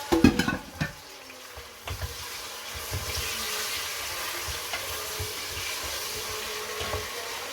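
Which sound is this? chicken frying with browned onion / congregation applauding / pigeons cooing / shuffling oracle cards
chicken frying with browned onion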